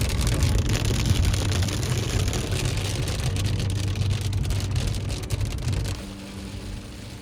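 Steady rain drums on a moving car in North Carolina, a dense hiss over a low engine and road rumble, easing slightly near the end.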